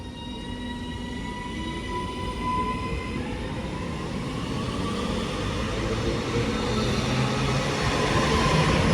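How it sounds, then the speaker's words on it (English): Class 331 electric multiple unit 331017, a three-coach Northern service, pulls out of Cheadle Hulme station toward Alderley Edge: a loud, steady traction hum with rising whine tones and rumbling wheels that builds slowly throughout. "First off, we see the departure of 331017, which has just brought us in from Stockport, working a northern service to Alderley Edge"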